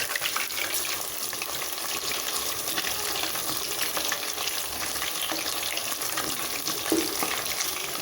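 Mushroom pieces for Manchurian frying in hot oil, a steady dense sizzle with crackling bubbles running throughout at even loudness.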